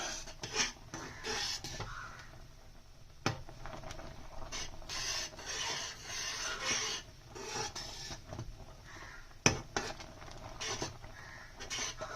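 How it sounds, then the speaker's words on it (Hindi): A spoon scrapes and stirs a thickening bottle gourd milk barfi mixture in a pan, producing repeated soft rasping strokes with occasional sharper clinks, quiet and close. "हम इस तरीके से इसको चम्मच घुमाते रहेंगे"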